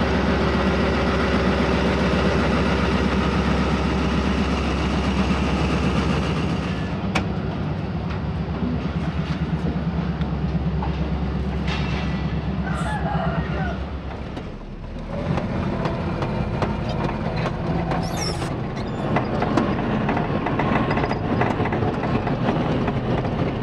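A train engine idles with a loud, steady rumble on the Rohri to Khanewal run in Pakistan, then the sound shifts and the engine works harder as the train pulls away.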